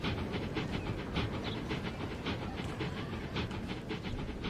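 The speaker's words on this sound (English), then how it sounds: "Even with a train just leaving fully loaded." A fully loaded passenger train pulls out of a station in the video game Transport Fever 2, a steady, dense rumble of wheels and rolling stock with faint rhythmic clatter throughout.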